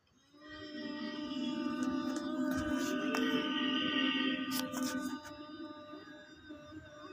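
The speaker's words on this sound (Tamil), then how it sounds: "இழுத்த மூச்சை வெளில விட்டோம்னா ஹம்மிங் சவுண்ட்." A steady, low humming exhalation from bee-breath yoga breathing holds for several seconds, a buzzing bee-like drone with rich overtones that fades as the breath runs out.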